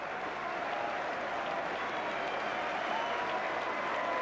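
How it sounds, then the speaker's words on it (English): Steady, dense applause from Workington Town rugby league players and supporters at Headingley after a Challenge Cup quarter-final, even and continuous from start to finish with no talk. "the Workington Town players, despite their heavy defeat, applaud their supporters behind the post"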